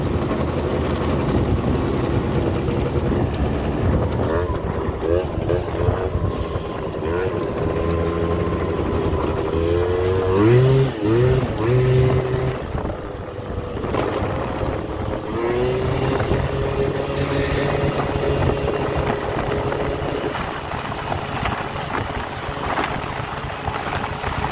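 A scooter fitted with new clutch springs rides a lap, its engine drone rising and falling through several revving swells with wind buffeting the microphone, continuous and fairly close, no speech.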